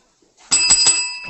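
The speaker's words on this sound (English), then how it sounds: "I keep forgetting about my bell." A bicycle bell rings sharply three times in quick succession, loud and close, with a lingering metallic ring fading after the strikes.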